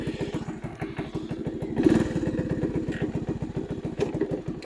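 A 1985 Honda ATC 110 three-wheeler's small single-cylinder engine runs nearby with a rapid, even putter, briefly swelling in revs once before settling back to a steady idle-like chug.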